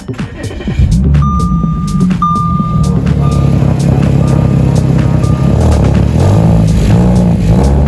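A truck engine with freshly re-welded mufflers that still have holes starts after a brief crank, then runs loud and close with a deep, throbbing idle; a high electronic beeping chimes over the motor early on.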